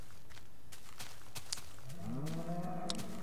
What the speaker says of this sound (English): Look, cow. It's a cow.